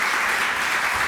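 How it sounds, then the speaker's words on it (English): An audience at a literary talk applauds to welcome a speaker, a brief dense wash of many hands clapping at once, steady and fairly loud, with no talk over it. "Please give him a warm applause."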